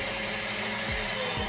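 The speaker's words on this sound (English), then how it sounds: "Did you vacuum what I asked you to vacuum?" A vacuum cleaner drones steadily at close range, a constant motor whine with broadband noise throughout.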